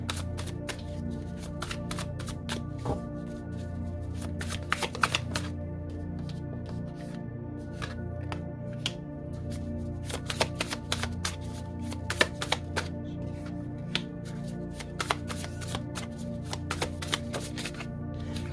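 Tarot cards are shuffled over and over at close range, with rapid riffling bursts and soft slaps recurring throughout, alone with no talk.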